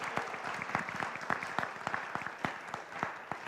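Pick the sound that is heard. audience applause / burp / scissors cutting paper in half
audience applause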